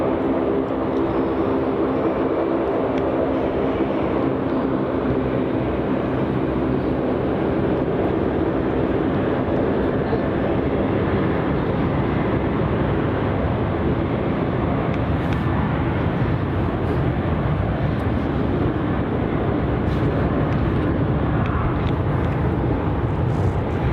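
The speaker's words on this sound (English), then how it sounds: "This is Virgin Australia flight VA813 heading off to Sydney." A Virgin Australia jet, flight VA813, departs Melbourne Airport for Sydney with a continuous, heavy engine roar that holds steady and loud throughout, with no talking.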